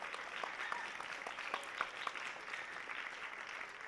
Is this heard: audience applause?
yes